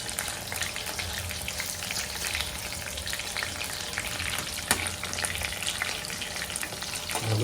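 Squid pakoras sizzle in hot oil, a steady, even crackle and hiss heard up close and alone, with a few louder pops along the way.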